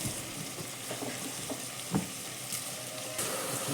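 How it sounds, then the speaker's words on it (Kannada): Beans, carrots and mixed vegetables for vegetable pulao frying in oil, a soft steady sizzle with occasional light stirring taps, close and fairly quiet. "ಈ ತರಕಾರಿ ಎಲ್ಲ ಎಣ್ಣೆಲಿ ಚೆನ್ನಾಗಿ ಫ್ರೈ ಆಗಬೇಕು"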